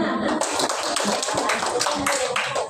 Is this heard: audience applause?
yes